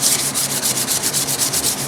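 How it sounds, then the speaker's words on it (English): 120 grit sandpaper rubbing over the original paint of a Raleigh Bomber bike frame, steady rhythmic back-and-forth strokes about seven times a second, close and hissy with no voices. "This is 120 grit sandpaper, by the way, that I'm using just to key up the frame"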